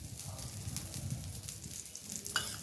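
Tempering sizzles in hot oil for ginger chutney, a steady close crackle with a brief stir or clink near the end, no talk.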